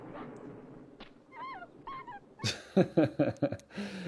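A dog whimpers offscreen in a scene from the Rambo film, with thin rising whines followed by a run of sharp, louder yelps and cries, heard close and alone amid faint background sound.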